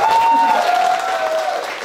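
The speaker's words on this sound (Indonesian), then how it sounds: "Tepuk tangan dong, sepinya dia." Applause from a family gathering crowd of bakery staff at an agritourism venue, steady and fairly loud for under two seconds, with a sustained tonal line running through the clapping.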